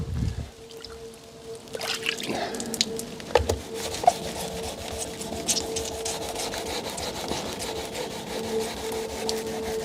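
Power sander working over a BMW E64 wing mirror, a steady abrasive rasping hum that stays close and fairly loud throughout, with a few sharper knocks and scuffs along the way and no talking.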